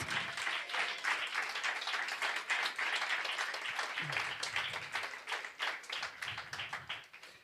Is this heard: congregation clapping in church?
yes